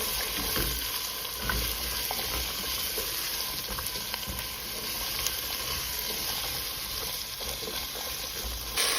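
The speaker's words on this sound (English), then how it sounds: "I sauteed the potatoes and the carrots for about 5 minutes" Potatoes and carrots sauté in a pot over medium heat for lentil and vegetable soup, giving a steady, close, continuous sizzle with a bright hiss and faint stirring scrapes throughout.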